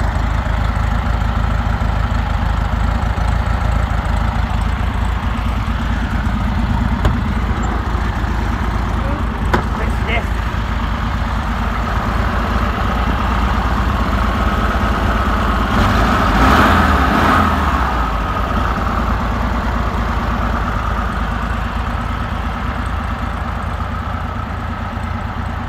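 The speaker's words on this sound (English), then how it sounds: "Let's look at the engines together, shall we?" An air-cooled VW T2 van and a VW Beetle idle together nearby, making a loud, steady, rumbling drone that continues without a break and swells slightly partway through.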